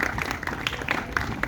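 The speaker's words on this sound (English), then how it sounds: "Big round of applause for the 10th coaching." Scattered applause from a quiz audience, moderate and a little distant, with uneven claps through a brief burst.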